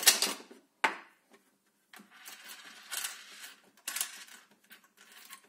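An Alfa 750 coin counting machine runs a batch of ten-unit coins, giving short bursts of rapid clattering and rattling separated by brief pauses, fairly close and clear, with no talking.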